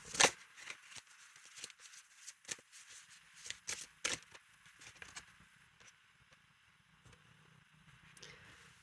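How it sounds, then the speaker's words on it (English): Tarot cards being shuffled close by: quiet riffling and soft snaps in irregular bursts, with a faint low hum underneath. "Just shuffling the cards and see which one comes forward."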